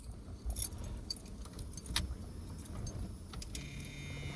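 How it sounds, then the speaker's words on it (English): Keys jangle and clink at the ignition of an AMC Concord parked for 26 years, a close, bright metallic rattle with sharp clicks that continues steadily throughout. "putting the key in the ignition. Wrong key."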